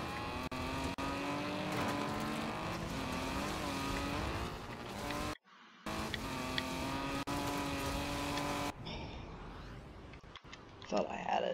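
A car racing in a used-car dealing video game, its engine droning and revving steadily through gear changes, with a brief cut and a tire squeal, a voice talking over it.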